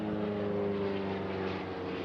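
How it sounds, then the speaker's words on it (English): Propeller airplanes flying overhead at a Formula Student event, a loud continuous droning hum with steady engine tones holding throughout, close and dominant. "here come the planes overhead, again. The aircraft is still flying."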